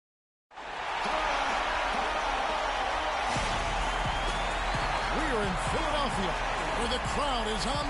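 Basketball arena crowd noise in NBA 2K fills the space as a dense, steady roar, with squeaking sneakers and ball bounces over it and a commentator talking throughout.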